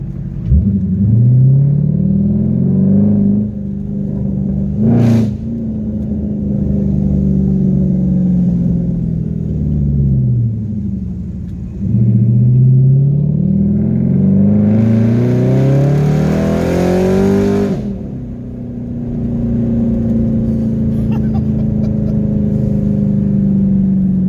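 An upgraded Dodge Charger SRT8 V8 revs hard and accelerates through several gears, its loud, close rumble climbing in pitch, dropping at each shift and climbing again, with one sharp surge near the end.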